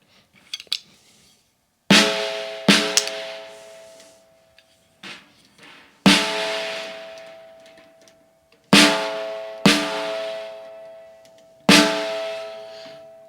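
A snare drum struck five or six times at a steady spacing, with the snare wires tightened to cut the buzz. Each hit rings out with a short, bright decay, and the room is quiet between strikes.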